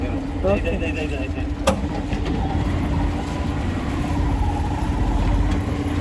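An auto-rickshaw rumbles along a street with a steady engine drone and road noise, passing traffic and a faint horn in the background, while people talk inside.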